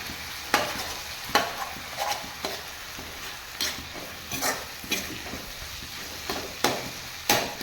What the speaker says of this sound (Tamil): இந்த மாதிரி முட்டை போட்டு கொஞ்சம் பெருசு பெருசாக உடச்சி விட்ருங்க